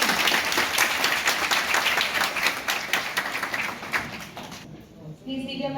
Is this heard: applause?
yes